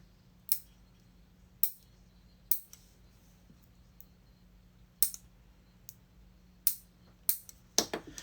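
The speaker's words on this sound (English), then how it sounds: "we are going to trim back these two nails" Fingernails being trimmed back with clippers during nail art work: about eight crisp, sharp clicks at uneven intervals, close up against a quiet background.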